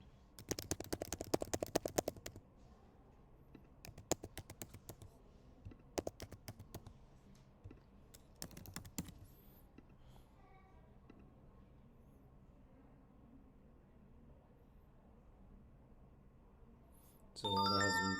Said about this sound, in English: So here I'm going to type in anything that I like.